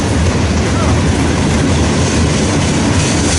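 A Conrail freight train hauling chemical tank cars rumbles past loud and near in Morrisville, a steady roar of rolling wheels and rail noise with no break.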